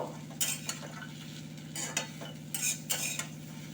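Quiet spatula strokes scrape and toss fried bitter gourd and lentil dumplings in a pan, several uneven stirring bursts over a soft low sizzle.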